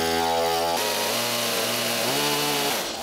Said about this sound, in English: I mustered up the courage to make another cut with the chainsaw